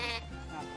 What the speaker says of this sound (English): they invest in 5 sheep